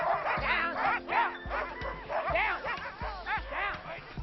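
Husky sled dogs in the Arctic, several animals barking and yipping in quick, excited overlapping bursts with some whimpering, close and loud and repeating throughout.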